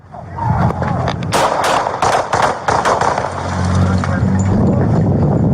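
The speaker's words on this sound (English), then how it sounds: "shots fired, suspect down" Gunshots ring out during a police encounter at a street intersection: a rapid cluster of sharp, loud cracks, followed by a lingering rumble of traffic and street noise.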